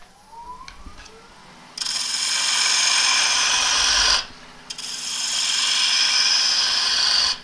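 A 3/8 bowl gouge cuts monkey puzzle end-grain wood on a lathe, giving two long, loud, hissing shearing passes with a brief pause between them, over a low motor hum.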